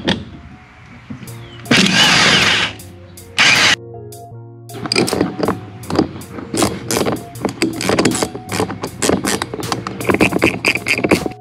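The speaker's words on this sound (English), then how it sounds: "we're gonna try the other side with the impact wrench and see how easy it is to take off" An impact wrench works on a car wheel part, with two long loud bursts of rattling hammering followed by a run of rapid clicking, clattering mechanical strikes, close and with no talking.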